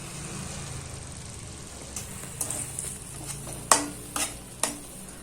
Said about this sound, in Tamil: இது இப்போ 2 நிமிஷம் இந்த ஆயிலில் கொஞ்சம் நல்லா வணக்கிக்கலாம்